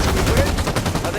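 Rapid bursts of gunfire from the video game Halo 5: Guardians, dense and continuous across the whole short stretch at steady loudness, with faint voices mixed underneath.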